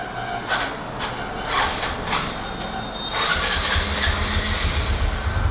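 A second-hand 2019 BS4 motorcycle in good condition cranks with a few starter bursts, then catches and settles into a loud, steady idle close by.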